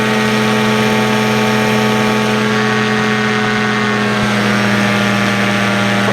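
Powered parachute engine running at climb power, a loud, steady propeller drone with a strong low hum and constant tone, close and unbroken, with no speech.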